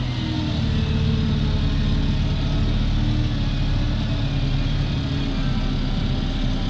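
Deutz-Fahr tractor hauling a 12.5 m³ slurry tanker while spreading slurry, a loud steady engine drone with a broad rumble that holds constant throughout, heard from inside or close by.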